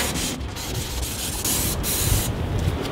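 Dawn Power Wash cleaner is sprayed onto a dirty outdoor grill on a windy day, making a close, steady hissing burst of spray that runs for about three seconds with no talking.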